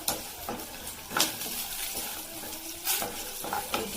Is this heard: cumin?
yes